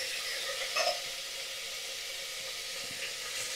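Green peas tumble into a pan of vegetables already frying with chopped onion, ginger and chilli, giving a steady close sizzle with a brief rustling burst as they land, no voices.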